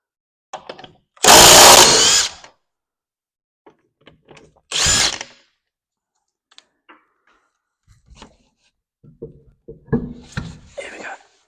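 Power tool removing the wheels from a 2014 Fiat 500 Sport, two loud close bursts of whirring rattle, the first about a second long and the second shorter, separated by quiet with faint clicks and knocks.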